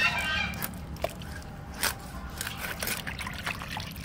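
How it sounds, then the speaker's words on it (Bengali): Freshly caught pond pangasius fish being washed by hand in water, with a continuous close trickle, splashing and scraping under soft background noise. "মা ওইদিকে ধুয়ে নিচ্ছে মাছ"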